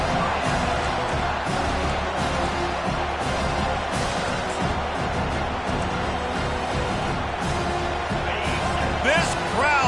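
Stadium crowd roaring steadily in the NCAA 25 college football game, Notre Dame vs Miami, on a fourth down, a loud continuous din with sharp cheers and a commentator talking over it.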